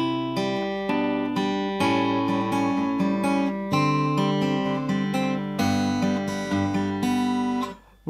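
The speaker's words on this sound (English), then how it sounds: "it plays a little interlude that sounds like this." Fingerpicked acoustic guitar plays the short interlude of a song, with clear plucked notes ringing over moving bass tones, close and alone, ending in a sudden cutoff.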